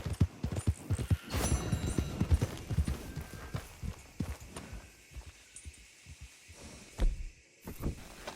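A horse gallops in Red Dead Redemption 2, its hooves clip-clopping in quick, uneven beats, loud at first, then thinning to scattered thuds with a few sharp knocks near the end.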